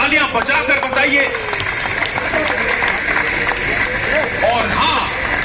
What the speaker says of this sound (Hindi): एक बार आप सभी जोरदार तालियां बजाकर बताइए।